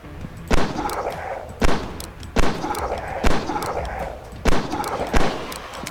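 Revolver gunfire in the video game Ramses Rise of Empire, six sharp loud shots spaced roughly a second apart over a constant game background hum.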